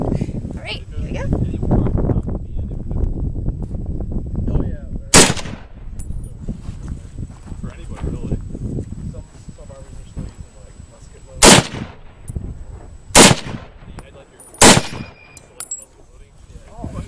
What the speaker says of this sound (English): Okay, so I'm shooting the M1 Garand.